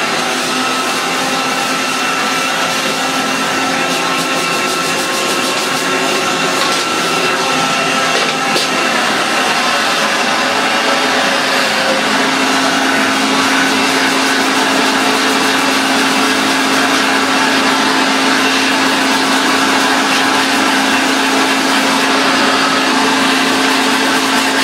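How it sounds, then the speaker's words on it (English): A vacuum cleaner fitted with a dusting brush runs continuously while cleaning out a PC, a loud steady whine and rushing airflow held at close range with small shifts in pitch. "Pop the dusting brush onto the dustingette and we'll get vacuuming."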